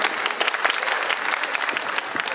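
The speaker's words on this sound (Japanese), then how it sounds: "拍手お願いいたします。" An audience at an indoor community-activity talk session claps together, with dense, steady applause for a couple of seconds.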